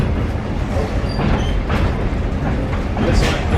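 From inside a caboose moving forward on the Lorain & West Virginia line, the train rolls along the tracks with a steady, close rumble and occasional faint clacks.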